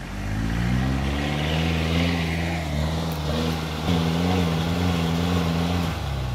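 An off-road truck engine revs hard by the Maramo River, a loud, close, droning growl whose pitch rises and dips steadily throughout, with no talking over it.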